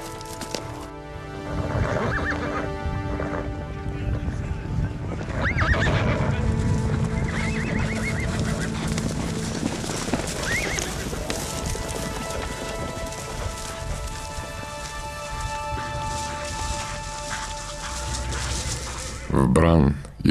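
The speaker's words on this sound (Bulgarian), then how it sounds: "заглуши я грохота на препускащи коне" Galloping horses with thundering hooves and repeated neighing and whinnies, a dense loud rumble running throughout with a sharp burst near the end.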